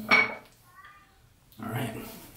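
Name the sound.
shaving lather bowl being placed down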